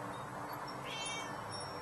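A cat gives a short, drawn-out meow, fairly faint, over a soft background hiss.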